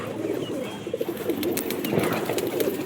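Domestic pigeons coo softly and repeatedly nearby, with low, rolling calls over faint background rustling and light chirps.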